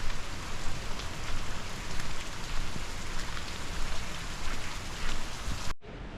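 Rain pouring steadily during a trek near Chikmagalur in Karnataka, a dense, loud, even hiss of falling drops close by that cuts off abruptly near the end.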